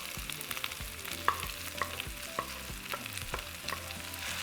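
Potatoes with diced onion and jalapeño frying in oil in a pan, a steady sizzle broken by repeated scraping stirs from a utensil, close and moderately loud with no talking.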